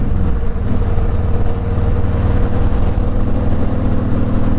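A car rumbles along the road toward Ritidian Beach in Guam's northeast corner, a loud, steady low engine and road drone heard from inside the vehicle.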